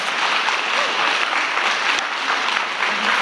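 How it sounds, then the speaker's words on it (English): Audience applause for school staff at the TC Martin school rededication: a dense, steady wash of many hands clapping that fills the room, loud and sustained throughout with no pauses. "Clap for those staff members."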